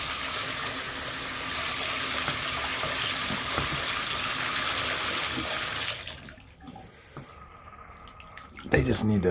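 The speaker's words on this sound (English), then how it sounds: "Still kind of trickling." Water hisses steadily from a leaky Pfister three-handle shower faucet, then eases to a softer trickle with scattered drips and a few faint handling noises.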